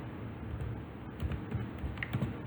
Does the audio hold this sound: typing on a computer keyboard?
yes